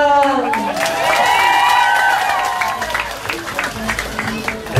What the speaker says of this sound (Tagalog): Isang palakpak yan!